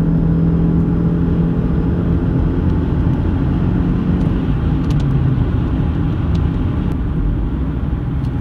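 Toyota Crown hybrid car accelerating strongly, a steady, loud broadband road and engine roar with a smooth low hum, heard from inside the cabin throughout with no talking.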